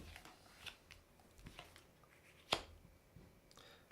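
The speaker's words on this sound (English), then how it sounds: "here I am shuffling these cards all around." Tarot cards being shuffled by hand; soft, sparse riffling and flicking with one sharper card snap, quiet and close, no talk.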